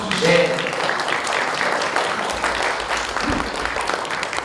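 An audience at a youth policy debate claps in a steady, dense round of applause that fills the room, with a voice heard briefly over it.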